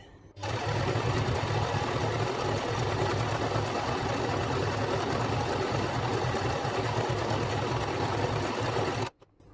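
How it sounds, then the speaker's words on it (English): A sewing machine stitching tabs on blockout window coverings for a DIY Mitsubishi Rosa bus conversion runs steadily and loudly for about nine seconds, a close, continuous mechanical whirr that stops abruptly near the end, with no talking. "So I've sewn 2 lines, and that's going to be my tabs as I cut them"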